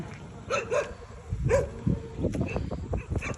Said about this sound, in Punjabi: ਤੁਹਾਡੇ ਪਿੰਡ ਦੇ ਕੁੱਤੇ ਹੀ ਤੈਨੂੰ ਭੌਂਕੀ ਜਾਂਦੇ ਆ